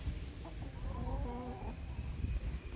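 Speckled Sussex rooster and hens cluck in short, close, moderately loud bursts over steady outdoor background noise, with no talking.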